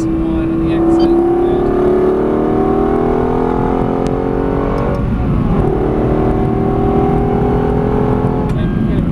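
A Lexus LFA lapping Silverstone circuit, its engine note loud and close, climbing steadily in pitch as it accelerates, dropping sharply around an upshift, then rising again, while an instructor talks over the engine.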